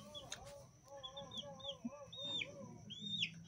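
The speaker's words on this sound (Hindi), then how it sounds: "मुर्गी खा रही है वो, देखो" A feeding hen with her chicks clucking softly in short repeated calls, with a few higher squawks, fairly quiet against faint background noise.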